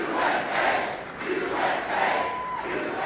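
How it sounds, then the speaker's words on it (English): A large crowd chants rhythmically at a political rally in a packed hall as a speaker reaches the podium, the loud, swelling chorus repeating in steady waves without a break. "Crowd chanting USA."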